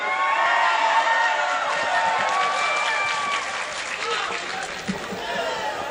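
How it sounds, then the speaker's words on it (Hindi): An audience at a mushaira poetry gathering during an Urs event claps and cheers loudly, sustained applause with whoops and shouts that holds steady and fades slightly toward the end. "जोरदार तालियों से इस्तकबाल करें पप्पू"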